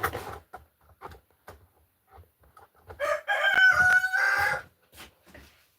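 A rooster crows loudly indoors, one long drawn-out call rising over scattered clucks and shuffling, with quieter bursts of fowl noise before and after.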